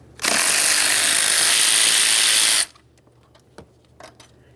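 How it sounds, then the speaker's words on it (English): A ratchet spins steadily for about two and a half seconds while loosening 12mm mounting bolts on the intake manifold of a 2007-2013 Acura MDX 3.7L V6, loud and close, followed by a few faint clicks and taps. "What we do need to do is remove our four pieces of mounting hardware."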